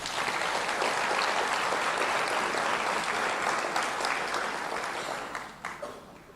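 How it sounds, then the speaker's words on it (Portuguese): Church congregation clapping in praise during a service, a dense, even roar of applause that holds for several seconds and then tapers off near the end. "Você poderia dar um aplauso a Jesus?"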